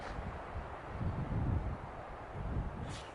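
Wind blowing through a desert valley along the Pacific Crest Trail, a low, rumbling rush that swells and eases in gusts, heard close on the microphone with no talking.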